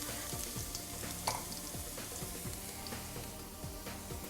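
Two cloves of chopped garlic and a bay leaf fry in oil, giving a quiet, continuous sizzle with scattered pops and an occasional stir, fairly close and with no talking.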